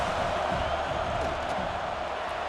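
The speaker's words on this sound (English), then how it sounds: "Crowd trying to do its part to get inside the kicker's head." Steady stadium crowd roar in College Football 26 as a kicker lines up for a field goal, a dense continuous wash of massed voices with no letup.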